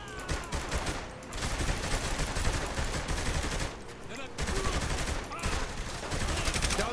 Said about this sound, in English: Shooting them probably doesn't help change their mind!